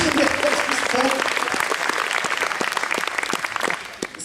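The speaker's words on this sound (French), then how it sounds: "on peut applaudir" An audience bursts into applause at a women's team sport conference, with brisk, close clapping that fades out over the last half second.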